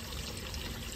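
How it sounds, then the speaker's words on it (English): Water from an aquaponics pump flowing out of a saddle valve, a faint, steady trickling pour that continues unbroken. "water flow coming from the saddle valve that will create aeration itself."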